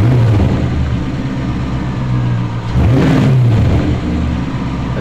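A healthy car engine during a running vacuum and fuel pressure test idles loudly, then the throttle snaps open for a quick rising rev that falls back to a steady idle, close up with no voices.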